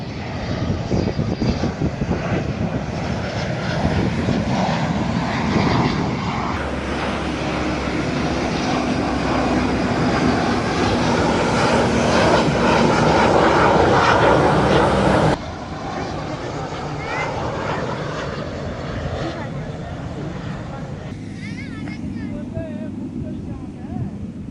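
Aircraft from the Kalaikunda air base roaring overhead, a loud continuous engine drone that swells and holds before dropping off suddenly, with people talking beneath it outdoors near a road and railway.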